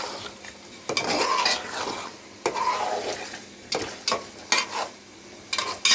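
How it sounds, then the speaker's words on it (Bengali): Chicken pieces stirred with spices in a pan for biryani, with repeated scraping clatters of a utensil against the metal over a soft sizzle, close and distinct in irregular strokes. "এখন আমি একটু ভালো করে নাড়াচাড়া করব মাংসটাকে মশলাটার সাথে মিক্সড করার জন্য।"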